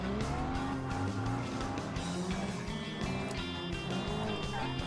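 Several cars drift in BeamNG, a driving game, with loud continuous tire squeal over roaring, revving engines; whining tones rise and fall throughout, close and dense, with no pauses.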